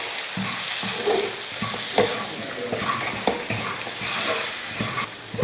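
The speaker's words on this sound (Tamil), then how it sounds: "மிளகாத்தூள் ஒரு ஸ்பூன் மல்லித்தூள் ஒன்று ரெண்டு கொஞ்சமாக மஞ்சள் தூள் இப்போ இதையும் நல்லா வதக்கிடுவோம்" Tomatoes sauté in a pan with chili, coriander and turmeric powder for a Parai fish curry, giving a steady close sizzle broken by soft spoon scrapes and taps as the mixture is stirred.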